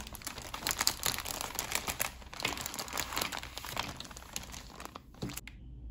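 Plastic packaging crinkles and crackles continuously as surprise Korean stationery packages are opened, close and fairly quiet, with no voice over it, ending abruptly.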